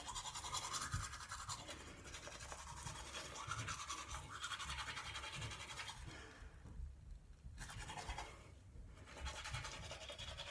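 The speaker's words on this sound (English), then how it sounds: "now I'm going to brush my teeth so you can see how much it foams." Someone brushes their teeth with a toothbrush and Georganics tooth soap, a faint, steady scrubbing and scratching close by that pauses briefly partway through.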